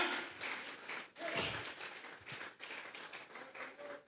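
A church congregation claps together during a Sunday service, a dense rattle of many hands that rises and falls irregularly in a reverberant room.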